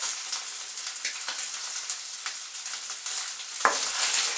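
Onions frying in a little oil for chicken curry give off a steady, close hiss of sizzling, with a sharper crackle near the end and no voices.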